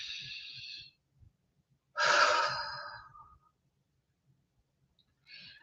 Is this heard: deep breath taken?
yes